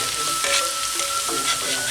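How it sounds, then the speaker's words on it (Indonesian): Bird's eye chilies sizzling in hot oil in a pan while cooking Balinese chicken lawar, a steady crackling fry with faint scraping of stirring. "Cabai rawit kita goreng sebentar saja."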